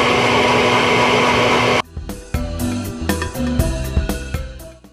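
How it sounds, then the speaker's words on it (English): Kitchen blender whirring loudly while mixing seaweed salt into a gel, then cutting off abruptly after about two seconds, followed by a series of knocks and clatters. "Turn our blender on."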